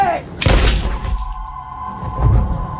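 A single loud gunshot in a film, a sharp close blast with a brief thudding tail and a high ringing tone, followed by a lower rumbling thump.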